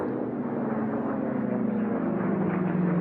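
An unlimited-class racing airplane rounds a pylon during an air race, its engine making a steady, loud, droning roar that holds and slightly builds over a few seconds.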